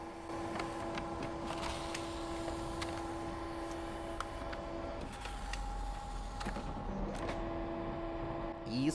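Pizza printer in Five Nights at Freddy's 6 video game, a faint steady mechanical whir with sustained tones and light creaks and clicks, briefly dropping off midway before resuming.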